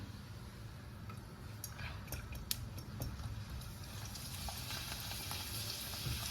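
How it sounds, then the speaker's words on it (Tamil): Homemade rice appalam fries in hot oil with a soft, steady sizzle and bubbling, punctuated by a few light clinks of a utensil against the pan, quiet and close. "இன்னொன்று பொறிக்கிறேன்"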